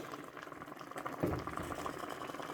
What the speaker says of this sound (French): façon ça mijote fort là